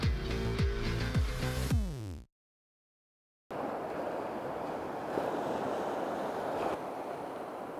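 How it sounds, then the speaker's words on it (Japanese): Calm surf washing onto a sandy beach at dawn, a soft, steady broadband wash with gentle swells, preceded by a brief burst of music and a short silence. "今日は波はすごく落ち着いてきてちょうどいい感じだと思います。"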